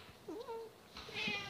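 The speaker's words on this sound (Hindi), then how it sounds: "कितनी क्यूट सी बिल्ली है ये, देखो भाग ही नहीं रही" A cute cat meows softly at close range, several wavering, rising-and-falling cries in quick succession, fairly faint over quiet background.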